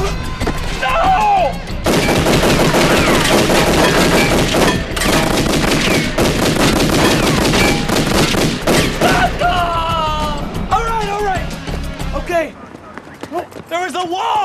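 Gunfire erupts during a store robbery, with rapid, loud shots and volleys packed densely for several seconds, then tapering off while frantic voices shout over and after the shooting.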